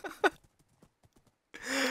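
Horse hooves clip-clop in the Minecraft video game as a string of faint, quick taps. A short voice burst comes first, and a loud rushing noise takes over near the end.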